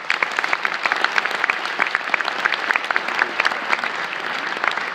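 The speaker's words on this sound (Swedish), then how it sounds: "Det tycker jag är värd en applåd." Crowd applause at a Swedish Folkpartiet political speech, with a dense bed of clapping and sharp individual claps standing out, sustained evenly throughout.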